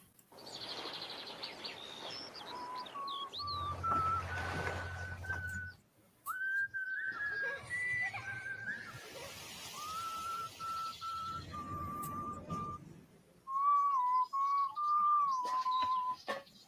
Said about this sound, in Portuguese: Ele começa um soldado assobiando, mas depois vem a canção.